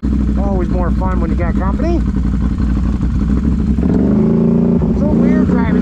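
An old motorcycle on a mud-tire ride, its engine running steadily and loudly while moving, with someone talking over the noise.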